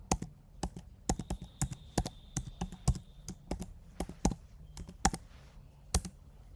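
Password being typed on a Mac computer keyboard during a software install: a quick, uneven run of close, crisp key clicks with short pauses between bursts, no voices.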